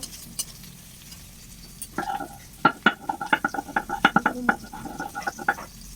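Rohu fish oil and onion frying in a wok, with a steady sizzle and a busy run of sharp stirring clatters in the second half, close and fairly loud.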